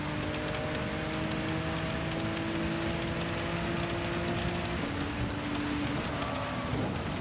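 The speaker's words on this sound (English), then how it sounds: "I said I thought that this rain would be coming a little bit later." Heavy rain hisses steadily during a Gran Turismo 7 race on full wet tyres, with car engines droning and sliding in pitch beneath the downpour and no voices.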